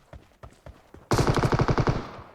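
Gunfire in the mobile battle-royale game PUBG Mobile: a few spaced single shots, then a loud, rapid automatic burst of about a dozen rounds, close and alone.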